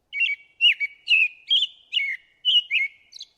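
An American robin sings a clear series of about eight short whistled phrases in an even, repeated rhythm, close and distinct against silence.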